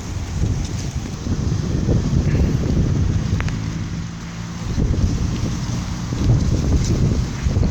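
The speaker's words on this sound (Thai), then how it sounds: "ช่วงนี้ลมจะ กระโชก บางเล็กน้อยนะ เนื่องจากฝนตก ต้นเดือนเมษายน" Gusty wind buffeting the microphone outdoors in a date palm orchard after early-April rain, a loud continuous low rumble that swells and eases in waves with no voices.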